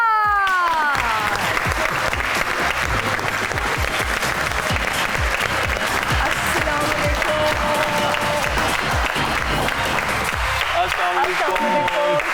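A studio audience claps loudly and continuously for Deedar and another guest on a talk show, with a host's voice and music tones over the dense applause.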